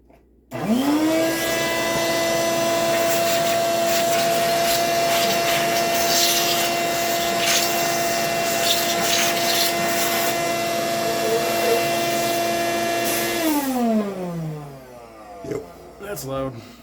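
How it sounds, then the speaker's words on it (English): Shop vac switches on abruptly and runs at a loud, steady whine with a constant drone, then powers down with a falling pitch near the end, in a garage during a DIY intake manifold gasket job on a 2016 Mitsubishi Outlander. "Alright, found our shop vac."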